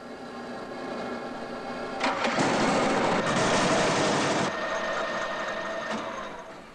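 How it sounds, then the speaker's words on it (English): A lathe spins at high speed with an unbalanced faceplate, its motor hum rising into a loud rattling, vibrating clatter for a couple of seconds before easing back down. "let's try running the lathe at a fairly high speed"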